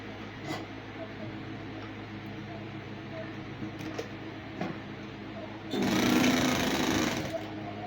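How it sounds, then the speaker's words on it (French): A sewing machine stitching an elastic band for a homemade headband, with faint intermittent clicks at first, then a loud close burst of fast continuous stitching for about two seconds. "Je suis sur la machine autant coudre tout ce qu'il y a à coudre."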